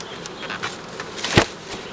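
Honeybees buzz in the upper super of a hive, a few scattered insects droning faintly with one brief, louder close pass near the end, no voices.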